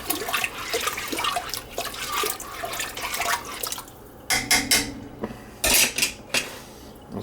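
A spoon scrapes and clinks against a pot of beef stew with rice as it is stirred, irregular metallic knocks and wet sloshing up close, with no voices.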